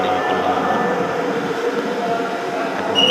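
A Dhaka metro train at a station platform rumbles steadily and loudly with a constant mechanical hum throughout, swelling slightly at the end.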